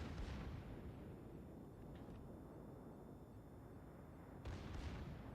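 Battleship secondary 127 mm guns firing in World of Warships on the tier VI American battleship New Mexico, a steady dense barrage of booming gunfire and rumble running throughout, with sharper bursts near the start and end.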